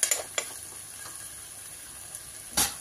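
Food frying in a pan with a steady soft sizzle, broken by a few clinks of a spoon stirring against the pan, close and quiet.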